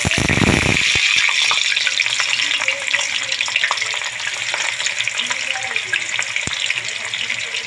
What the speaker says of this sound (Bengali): মাছগুলো এখন ভাজা হওয়ার জন্য ছেড়ে দেবো